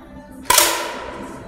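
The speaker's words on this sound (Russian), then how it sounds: "И делает хороший, уверенный выстрел в центральную десятку." A single sharp crack of a 10 m air rifle shot at a women's shooting competition, close and crisp, followed by a short ringing decay in a quiet room.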